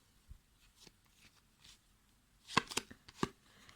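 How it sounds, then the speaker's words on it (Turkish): Tarot cards being shuffled by hand in a quiet room, with a few soft riffles early on and a louder burst of sharp card flicks and slaps near the end. "şöyle bir daha karıştıralım"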